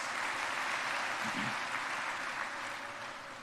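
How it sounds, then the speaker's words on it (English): Quiet, steady applause from an audience at a university inauguration and orientation for first-year classes, an even wash of clapping with a brief murmur of voice early on, tapering slightly at the end. "Let us give them a big round of applause"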